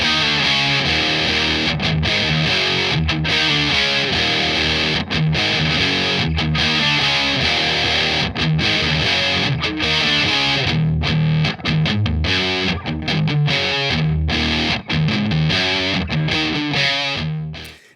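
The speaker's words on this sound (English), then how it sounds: "the DF-2 Super Feedbacker and Distortion, or Super Distortion and Feedbacker" Electric guitar played through a Boss DF-2 Super Feedbacker and Distortion pedal, thick saturated distorted chords and riffs ringing continuously and loudly, with no voice.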